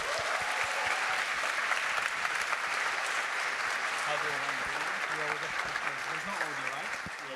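Audience at a Berlin conference talk session applauds the speakers with continuous dense clapping, while a faint voice speaks underneath toward the end as the clapping slowly tapers.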